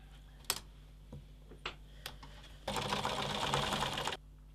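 A sewing machine stitches darts on an apron dress in a steady burst of about a second and a half, preceded by a few soft clicks and taps of handling nearby.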